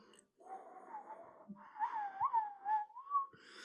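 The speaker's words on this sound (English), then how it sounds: "so everyone try to do a low whistle" Several people in a group attempt a low, breathy whistle together, producing wavering airy tones that slide up and down in pitch, soft and close.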